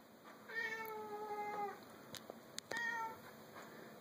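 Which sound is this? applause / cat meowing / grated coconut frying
cat meowing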